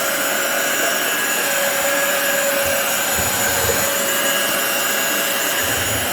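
A heat gun runs with a steady broadband whoosh and airy hiss, held at constant loudness and close by the whole time, no talking over it.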